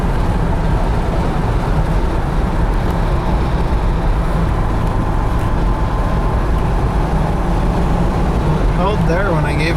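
A 2011 Ford Crown Victoria with transmission trouble coasts downhill, heard from inside as a steady low road rumble and tire drone that holds evenly throughout.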